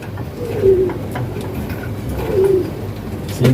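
Pigeons cooing in a pigeon loft, two soft rolling coos close by over a low murmur of other birds and background hum.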